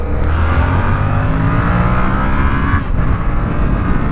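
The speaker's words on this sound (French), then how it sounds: "En 2, on va essayer de monter un peu dans les tours." Close, loud revving of a Yamaha XSR 700 motorcycle engine in second gear, its pitch climbing steadily through the revs over wind noise, then a brief dip near the end before it pulls on again.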